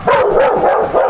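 A dog barking inside a garage, loud and close, giving a quick run of three or four hoarse, echoing barks back to back.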